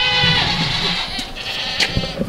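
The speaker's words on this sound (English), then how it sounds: "You guys can hear the goats over there crying." Goats bleat from inside a barn on a farm, several overlapping cries rising and falling across the clip at moderate distance, with no talk over them.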